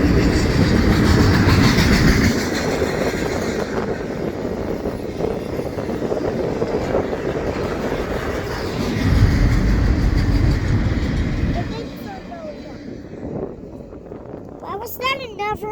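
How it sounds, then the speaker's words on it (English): A Norfolk Southern intermodal freight train rolls past a road crossing in Chattanooga, a loud steady rumble with rail clatter that eases and fades toward the end. "Why was that another really short train?"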